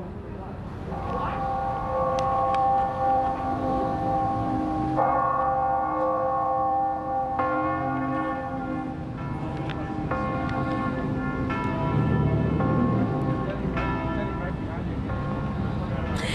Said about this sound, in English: throughout the city, church bells rang as a moment of silence at 12:30